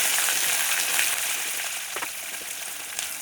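Curry leaves and green chilies fry in hot oil with a steady bright crackling sizzle throughout, close and fairly loud, with a few soft pops and no voices.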